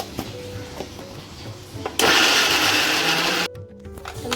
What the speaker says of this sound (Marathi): आपल्याला पाणी न टाकता मिक्सरमध्ये बारीक करून घ्यायचं आहे